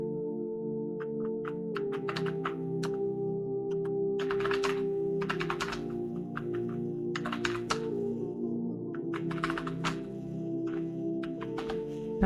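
Keys clatter on a computer keyboard as a short text prompt is typed into an AI landing-page builder, with bursts of quick clicks separated by pauses over a steady tonal hum.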